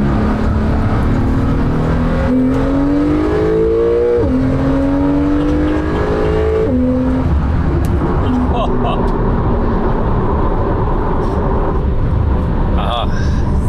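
A Porsche 911 Carrera 4 GTS (991.2, 450 hp) accelerates hard through several gears, the engine note climbing and dropping at each shift, heard loud from inside the cabin with someone talking over it.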